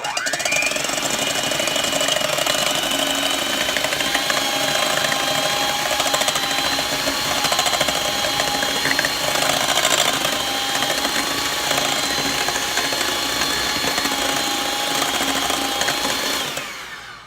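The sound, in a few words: electric mixer whipping eggs for cloud bread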